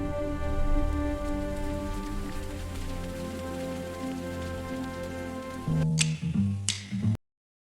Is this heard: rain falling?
yes